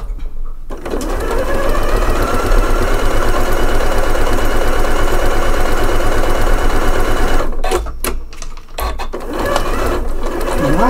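A Janome Memory Craft 9480 sewing machine topstitching, its rapid loud mechanical whirr running steadily, then breaking into a few short stop-start bursts near the end.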